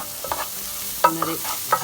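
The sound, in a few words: mixing mushrooms in a pot for mushroom soup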